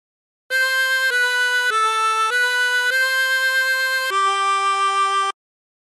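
A harmonica plays a short phrase of the melody Aura Lee, six sustained notes including a bent note, clean and close, one note moving smoothly into the next before stopping.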